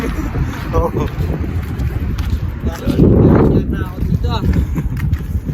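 Steady cold headwind rushes and buffets against the microphone in Japan, with a stronger gust midway, while a person speaks breathlessly over it.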